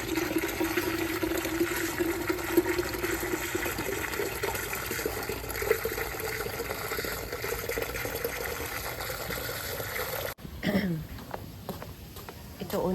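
Urea fertilizer is stirred into a gallon of water to dissolve, a steady close sloshing and swirling of liquid that breaks off sharply near the end into quieter handling sounds, with a voice heard briefly.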